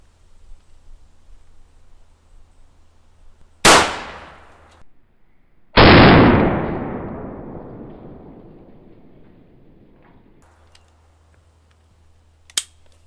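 Two loud, sharp .45 ACP gunshots from a Ruger P97 pistol fired at a concrete block, the second ringing out with a long decaying echo, then a faint click near the end.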